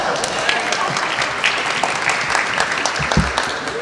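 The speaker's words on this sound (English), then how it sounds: "You didn't have to applaud that part," An audience at a mayor-elect's press conference naming an executive team claps in sustained, fairly close applause, with some voices murmuring underneath.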